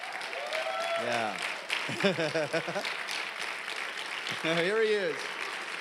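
Steady applause from a tribal gathering audience welcoming a speaker, running throughout beneath a voice that talks over it in short bursts.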